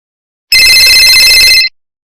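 A telephone bell rings in one bright, rapid trill lasting just over a second, loud and close, then stops abruptly with silence around it.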